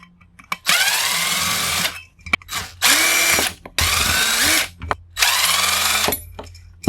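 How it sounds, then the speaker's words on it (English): Power drill whirring in four long bursts, loud and close, backing screws out of a scrapped blender's steel and zinc-aluminum parts, with short quiet gaps and small clanks between runs. "Remove those screws"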